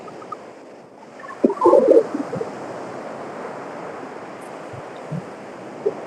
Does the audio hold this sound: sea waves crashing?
yes